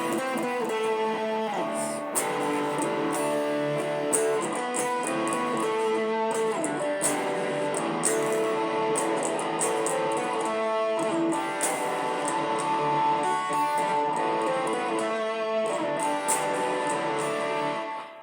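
Dense, sustained distorted electric guitar chords ring out continuously with a loose rhythm, loud and full, layered with other instruments, the pre-chorus of a song, no talking.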